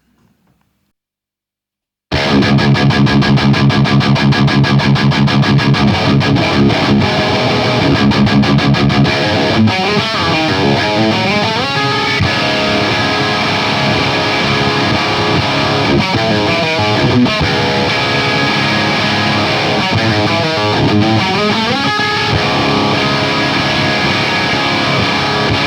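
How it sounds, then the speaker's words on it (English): Heavily distorted electric guitar played through a preamp, a dense, loud wall of riffing that starts after a short near-silence and runs continuously with rhythmic chugs and sustained chords. "if you want to listen to what the guitar sounds like,"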